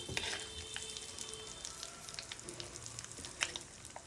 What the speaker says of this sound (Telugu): ఆవాలు చిట్టుపట్లాడుతున్నాయి